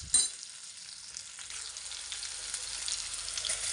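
Chopped onion and green chillies fry in hot oil for a prawn curry, giving a steady close sizzle that builds slightly over a few seconds after a brief clatter at the start.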